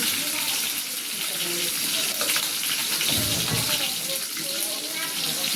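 A hilsa fish head fries in a pan with a steady, hissing sizzle that runs throughout at moderate loudness, along with a few low clunks.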